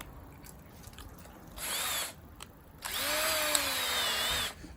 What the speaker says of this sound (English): We'll drill it out right away here for you.